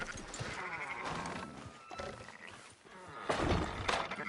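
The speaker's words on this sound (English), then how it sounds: "Fine sheep." Sheep bleating in the video game Red Dead Redemption 2, several cries overlapping amid busy clattering and movement, fairly loud and close, with a sharper burst near the end.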